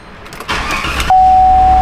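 A 2016 GMC Sierra with a GDI engine and a freshly replaced in-tank fuel pump cranks briefly, then catches and settles into a steady, loud idle with a faint high whine.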